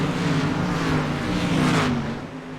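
Dirt track race car engines roaring on full throttle at Knoxville Raceway, a loud steady drone with a rising pitch sweep near the end, no talk.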